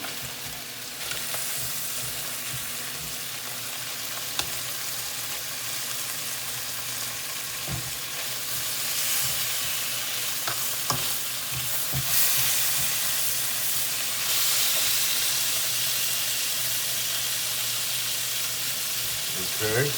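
Bacon frying in a pan, a steady close sizzle and crackle lasting the full twenty seconds, with occasional clinks and stirring and a brief sound of running water.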